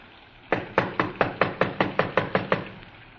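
Knuckles rap on the door of a small redwood house in a radio drama, eleven sharp, evenly spaced knocks, close and loud, after a brief quiet start.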